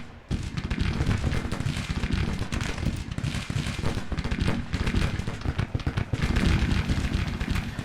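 Continuous rumble of Civil War artillery fire in the Grand Tactician strategy game, dense overlapping booms and cracks rolling steadily without pause, loud and sustained.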